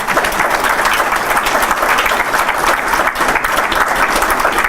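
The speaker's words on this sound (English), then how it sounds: "let's give Jim a big applause" Loud, sustained audience applause for keynote speaker Jim at a university STEM mini conference, a full room clapping steadily and evenly with no talk over it.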